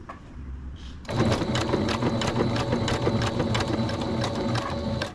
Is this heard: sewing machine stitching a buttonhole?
yes